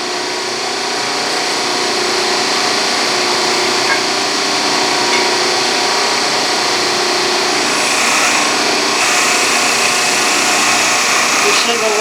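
A tube bender machine used for bending roll-bar tubing with 1 3/4 dies runs with a steady, loud motorized whine and hum, constant and unbroken throughout, with no talking.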